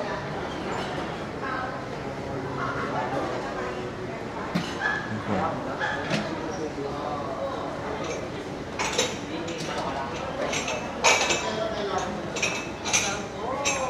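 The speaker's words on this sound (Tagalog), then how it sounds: "Ay, aso." A dog barks, yips and whimpers indoors in short repeated bursts over a few seconds, with people talking nearby and cutlery clinking in the background.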